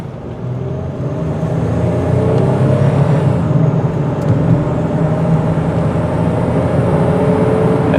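A green 2004 Ford Freestar SE minivan accelerates on a road up to about 55 mph, a steady building engine and road drone heard from the cabin with smooth shifts and no talking.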